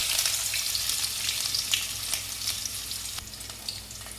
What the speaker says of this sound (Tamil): எண்ணெய் காஞ்சிருச்சு, வெந்தயம் போட்டுடலாம்.